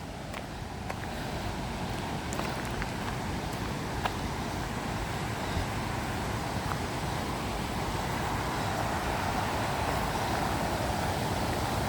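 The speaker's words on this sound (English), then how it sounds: "This is the weir, or the sluice." Steady broadband rush of water pouring through a river weir sluice, a constant close roar with no talk, lightly buffeted by wind across the microphone.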